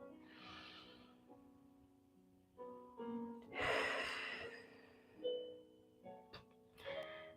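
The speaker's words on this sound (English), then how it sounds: "One more time, inhale. Exhale." A person breathes deeply in and out during a slow grounding exercise, a few breath bursts rising and falling over a soft tonal background.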